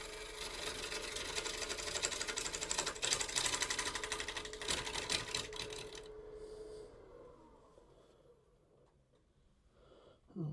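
A sharpened woodturning tool cuts a winged bowl spinning on a lathe, giving a rough, intermittent chattering scrape for about six seconds before the cutting stops and the lathe winds down.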